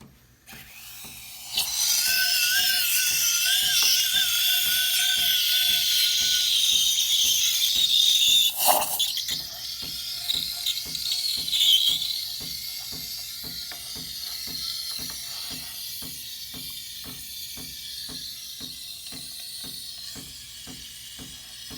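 An espresso machine heats up with a steady rising hiss and whine, joined later by a rapid, regular ticking pulse that continues to the end; a sharp clank cuts through midway.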